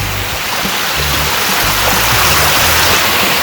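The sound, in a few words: stream of flowing water in the wilderness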